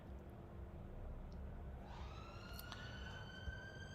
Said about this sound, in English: Sorry about the sirens, that's really annoying